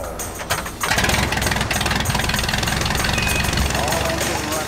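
An aircraft engine catches after a brief quiet moment and settles into a loud, steady, pulsing run with a throbbing beat, staying close and continuous to the end.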